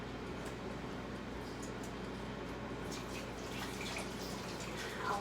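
A kitchen tap runs steadily while hands are washed under it, a continuous hiss of water with small splashy variations, close and moderately loud, with no talking.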